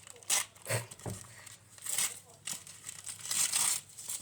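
A plastic sticker package is torn open and crinkled by hand in short bursts of sharp crackling, close and fairly quiet.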